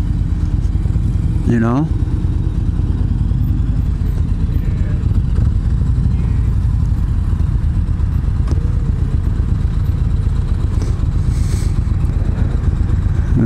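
A 2018 Yamaha Venture touring motorcycle engine runs steadily and low throughout, a constant rumble beneath someone talking close by.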